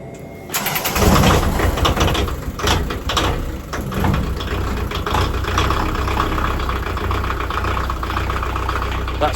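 A narrowboat's cold diesel engine cranks and catches after a click, then settles into a loud, close, knocking idle that carries on steadily.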